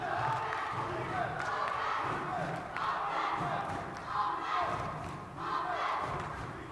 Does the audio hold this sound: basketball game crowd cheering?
yes